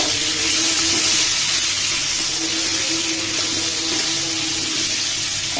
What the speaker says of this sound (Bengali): আলুগুলোকে সুন্দর করে ভেজে নিব।